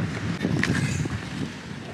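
Wind buffets a camera microphone outdoors outside a store, a continuous loud rumbling roar with gusty swells for the whole stretch, no talk.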